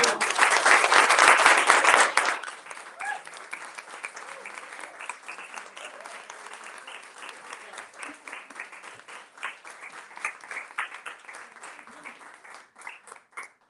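A burst of audience clapping closes a poetry reading, loud and full for about two seconds, then thins into scattered, quieter claps that trail on for the rest of the stretch.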